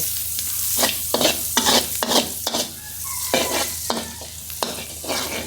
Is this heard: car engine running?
no